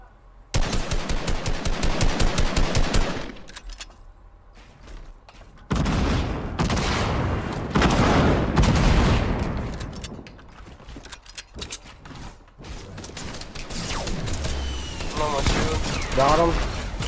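Rapid bursts of automatic gunfire from a battle-royale style shooter game, loud and repeated in several volleys with brief pauses, with a player talking over parts of the action.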